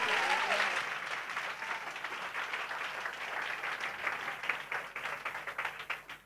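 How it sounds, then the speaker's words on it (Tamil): Applause from a church audience at a Christmas launch event, with people clapping overhead. It is a dense, steady wash of many hands that thins slightly toward the end, with some crowd voices underneath. "தலை மேல ஒரு கைத்தட்டு."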